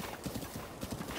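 Rhythmic clip-clop of horse hooves as a rider travels on horseback in Zelda: Breath of the Wild, a quick steady gallop pattern heard softly over a faint background.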